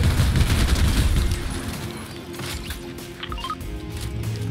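Gunfire in Fortnite rattles in quick, loud bursts at first, then thins into scattered shots and small mechanical clicks.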